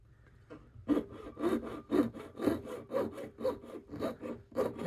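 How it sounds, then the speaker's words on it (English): A jeweler's saw cutting metal, close and quiet, in a steady rhythm of about nine even back-and-forth strokes after a brief start, no talk. "When you go around corners, keep sawing."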